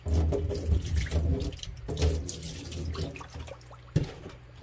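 Tap water runs steadily into a cooking pot, filling it about halfway to boil freshly harvested corn, with a constant rushing splash close to the mic and a brief clatter near the end.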